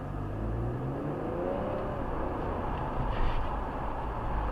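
A car speeds up to about 30 miles an hour on a cone course during an evasive maneuver driving exercise, its engine a steady low rumble and whir with no talk over it.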